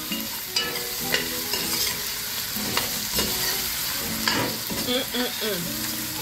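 Smoked bones and seasonings are stirred in a pot for bhaji cook-up, giving a steady close sizzle with frequent scraping and clinking strokes of the spoon, and no talking.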